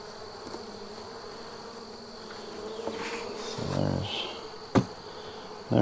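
Honey bees from a caught swarm buzz softly inside a hive box, a faint steady drone with a few louder passes nearby and occasional knocks of handling.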